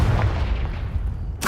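A Confringo blasting spell erupts in Hogwarts Legacy as a loud, booming explosion with a low rumbling body, followed by a sharp fresh burst at the very end.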